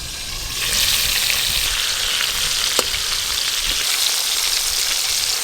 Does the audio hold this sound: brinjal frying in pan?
yes